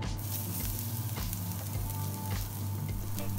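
Ginger and garlic fry in leftover oil in a pan, a close, steady crackling sizzle with regular stirring scrapes over a low constant hum.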